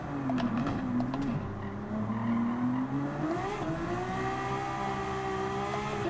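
Race car engine in a racing video game (Gran Turismo style, 800pp car) droning steadily with harmonic pitch sweeps as the throttle is feathered, loud and continuous with faint tire noise.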